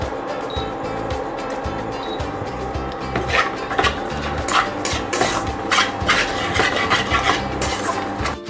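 Fresh coconut being dry roasted in a pan over a low flame, with a spatula scraping and stirring against the metal in repeated rasping strokes that grow busier midway, close up, without talk.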